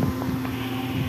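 A WPZ rail-laying machine at work on a high-speed railway construction site hums with a steady mechanical drone and faint clicks, close and continuous for about a second.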